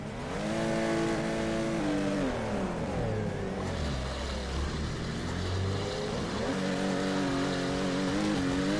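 A drift car's engine revs and accelerates in Torque Drift, shifting through gears with a rising and falling pitch, loud and steady with no talk.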